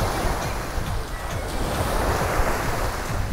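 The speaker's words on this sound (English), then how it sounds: "Got a nice wind kicking up right now" Wind and ocean surf at Lido Beach in Playa del Carmen on a hot day, a steady wash of breaking waves mixed with gusty wind buffeting the microphone, continuous and fairly loud.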